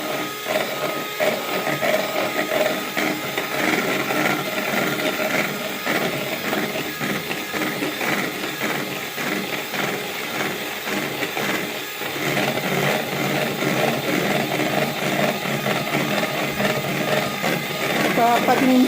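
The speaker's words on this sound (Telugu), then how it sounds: "ఇలా బీట్ చేసుకుంటూ ఉంటే తెల్లగా గుడ్డులాగా వచ్చేస్తుంది." An electric mixer beats homemade marshmallow mixture in a steady, continuous whir with a faint rhythmic flutter, running unbroken throughout while someone talks softly.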